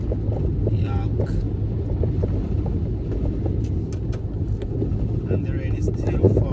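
Congested traffic crawls along a rain-soaked road in Santa Cruz, a steady rumble of engines and tyre hiss with some wind noise on the microphone, and voices talking over it throughout.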